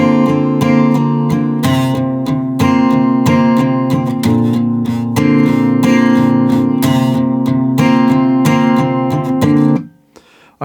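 Guitar strums the chord progression of a song at a slow, even pace, with full ringing chords changing every second or so before a short fade at the end.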